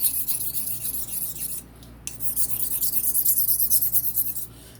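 A blade is honed on a freshly lapped sharpening stone, steady close rasping strokes with torque toward the edge, a short pause mid-way, then continued rhythmic scraping.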